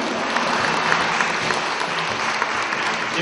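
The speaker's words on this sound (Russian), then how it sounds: "Ваши аплодисменты." Audience applause for an award winner at a workplace safety awards ceremony, a loud, dense and continuous clapping from a large crowd sustained evenly throughout without speech.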